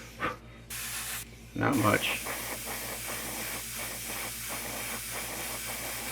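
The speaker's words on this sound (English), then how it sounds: "I'm spraying up towards the top where it should, actually should spray this way." Short bursts of dark-colored spray paint hiss close by as a quarter-scale Aquaman figure is painted, with a person speaking briefly over a steady background hum.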